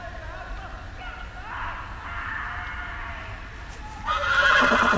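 Horse neighs in a Game of Thrones video game, a whinny rising over steady in-game ambience and swelling louder near the end, with a voice talking underneath.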